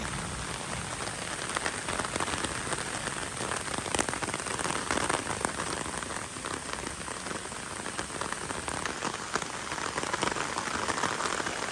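Steady rain pours down in Miandam Valley, Swat, a dense hiss of drops pattering on surfaces throughout, with no voices.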